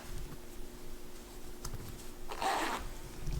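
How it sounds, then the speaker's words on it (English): Zipper pulled open along a towel cushion cover for an RV, a short quick zip burst near the middle, close and fairly faint amid quiet handling rustle, no talk. "you can reach your hand in there and unzip it all the way"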